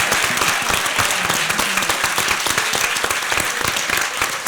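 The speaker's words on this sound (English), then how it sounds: "Let's give our moderators a round of applause" Loud, dense applause fills the room at a Black student strike forum, sustained and even from many people clapping together, with faint crowd murmur underneath.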